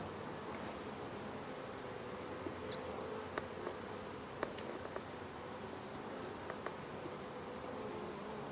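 Honey bees buzz around a hive frame in a garage, a steady faint hum with scattered closer passes and light rustling, no talk.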